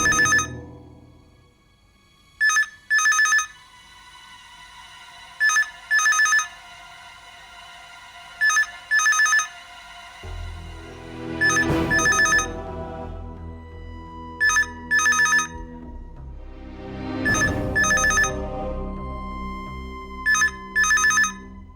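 A phone ringtone chimes in repeated short bursts at regular intervals, loud and electronic, over a low droning background that swells partway through.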